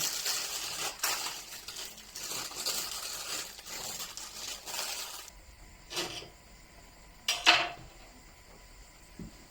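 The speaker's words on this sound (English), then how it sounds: "I'm going to chop some basil now" Basil is chopped with a knife for a homemade lasagne, heard as a run of close, faint tapping strokes on a board, followed by a pause and a few louder clinks of kitchenware.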